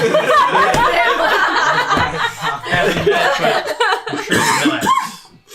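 Repeated coughing in a busy, noisy room, mixed with chuckles and laughter from several people and overlapping chatter, fairly loud and close throughout.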